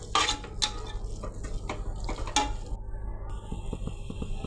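A spoon scrapes and stirs tomato biryani masala with turmeric in a metal pan, giving several sharp clinks and scrapes close up, followed by a faint sizzle with no talking.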